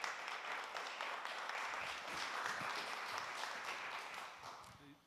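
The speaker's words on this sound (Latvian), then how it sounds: "Ārā aplausiem!" Conference audience applauding at the opening of a Latvian local-food conference, steady broadband clapping from a hall full of people, moderately distant and fading slightly at the end.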